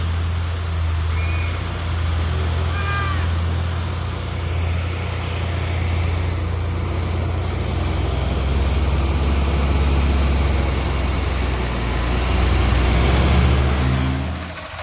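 Orange Fuso cargo trucks rumble past with a deep, loud engine drone that swells and holds, heavy low-end roar continuing without talk.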